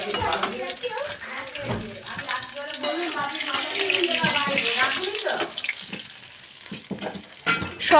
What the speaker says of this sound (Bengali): মাছটা বেশ বড় সাইজের মাছ এটা ভাজতে একটু সময় লাগবে